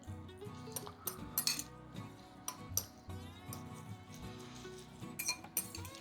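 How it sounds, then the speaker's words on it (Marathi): A utensil mixes salt and pepper in a bowl, giving irregular clinks and scrapes against the dish in quick bursts, fairly quiet and close. "थोडंसं मीठ घालणार आहे आणि थोडं पेपर घालणार आहे आणि हे मी मिक्स करून घेतोय."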